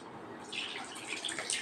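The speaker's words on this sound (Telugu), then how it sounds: "ఇప్పుడు మనం దీనిలో నీళ్లు పోసి కలుపుకుందాం" Water is poured into wheat flour in a bowl to make dough, a faint, soft trickling and splashing that picks up slightly partway through, with no voices.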